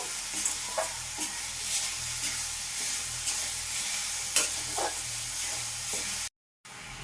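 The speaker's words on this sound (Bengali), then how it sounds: "এবার খুব ভালো করে আমি গুড়ের সাথে নারকেলটা মিশিয়ে নিচ্ছি" Grated coconut is stirred with jaggery in a hot pan, giving a close, steady sizzle with repeated scraping strokes of a spatula, then a short cut to silence near the end.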